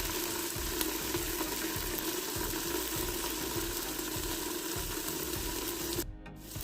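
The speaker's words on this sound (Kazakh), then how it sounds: "Қазір әбден қуырылғасын, бұның үстіне қайнаған су құямыз." Boiling water is poured onto onions and tomato paste frying in a pan for vegetable soup, giving a steady close hiss and rush of liquid that cuts off abruptly near the end.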